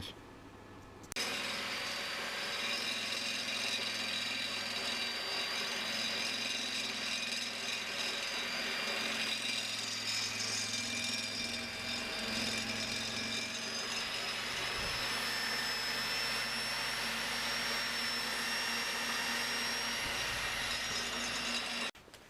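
An abrasive grinding wheel whirs continuously against the rear brake disc of a Kawasaki ZX14 motorcycle, a steady harsh drone with a ringing whine, running for about twenty seconds before cutting off.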